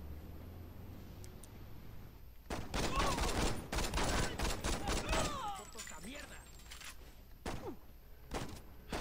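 Gunfire in the Saints Row video game, a burst of rapid shots and thumps building to a loud volley, then tapering to scattered single shots with a few sharp reports near the end.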